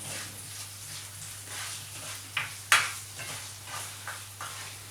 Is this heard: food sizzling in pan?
yes